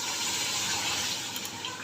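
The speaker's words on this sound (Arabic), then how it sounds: "نحط لها شويه ميه" Water pours steadily into a cooking pot of tomatoes, a continuous close gushing and bubbling wash that eases slightly near the end, with no speech.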